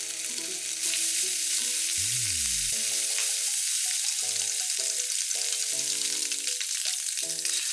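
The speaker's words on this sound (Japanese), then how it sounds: "ベーコンを焼きます" Bacon sizzling in a frying pan for bacon-and-egg rice balls, a steady close hiss of frying fat running throughout beneath background music, without any talk.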